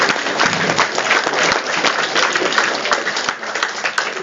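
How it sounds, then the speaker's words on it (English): Sustained audience applause, dense and steady, with many hands clapping together throughout at a loud, even level. "Let's give a big round of applause to all the awardees."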